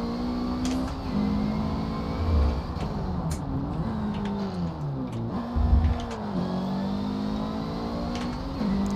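Mitsubishi Eclipse engine revving in the racing game Forza Motorsport 7, a steady loud drone with pitch rising and falling through repeated revs, played with a steering wheel controller.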